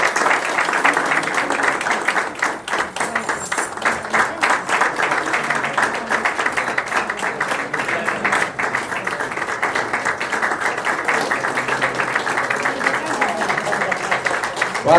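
Enthusiastic audience applause at a church event, dense rapid clapping from a crowd lasting the full stretch, loud and continuous with a brief dip partway through.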